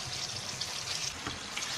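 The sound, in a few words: water being poured into a cooking pot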